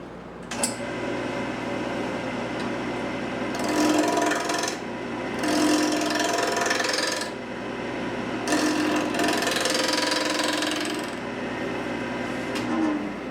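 A wood lathe cuts a wooden teapot, with a continuous raspy scraping that rises in several louder bursts of a few seconds each as the tool bites, between steadier hum.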